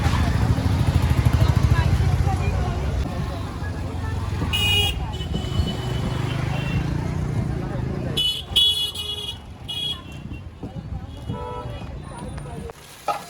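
Busy street traffic outside a fish market in Bhandup West, with a continuous engine rumble broken by a few short horn toots and people talking over it.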